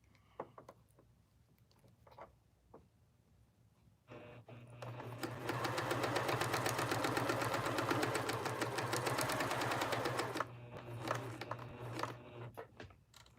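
A sewing machine stitches steadily through a scrap taggie blanket in one sustained, loud run of rapid needle strokes of several seconds, with quieter handling sounds before and after.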